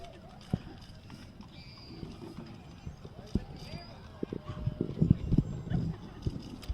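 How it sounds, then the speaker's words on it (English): Horses walk past in a Fayetteville Christmas parade, some wearing Santa hats, their hooves clip-clopping in an uneven rhythm that grows louder and closer over crowd murmur and spectators chatting. "Oh, look at the little horse."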